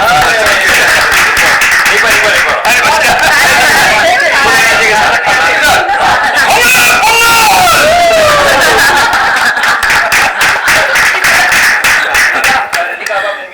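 Audience at a Pongal celebration with actors breaks into rapid clapping and cheering, a continuous dense patter of hands with shouts and laughter, while people speak over it.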